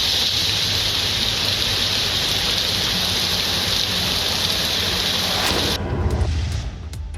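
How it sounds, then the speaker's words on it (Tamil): Steady heavy rain falls in a broad unbroken hiss through most of the stretch before abruptly thinning near the end; no clear thunder stands out. "இடி மின்னலுடன் 1 மணி நேரம் பெய்த மழையின் காரணமாக"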